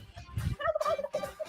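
A turkey gobble sound effect: a single loud, close, warbling gobble rattling for just under a second after a short low thump, with no talk.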